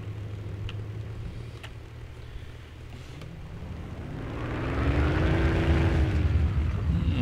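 The engine of a P-51 Mustang in the flight combat game Aces High 3 drones steadily on the runway, then swells into a louder, rising propeller roar as power builds, with no talk over it.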